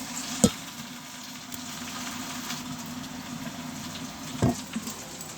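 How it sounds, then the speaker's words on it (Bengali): Okra fries in a pan with a soft, steady sizzle close by, broken by two sharp clunks of a utensil against the pan, no voices over it. "এবার ভেন্ডিটা ভেজে তারপরে এটা ভাজবো"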